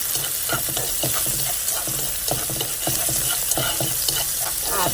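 Preserved cabbage is stirred in a hot pan for hủ tiếu, giving a loud, close sizzle broken by quick rhythmic scrapes and tosses of a utensil against the metal.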